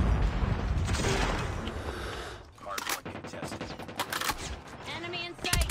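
Rapid gunfire in a ranked shooter game crackles in dense bursts, loud and close, with mechanical clicks and short pauses between volleys, and a player voice mixed in.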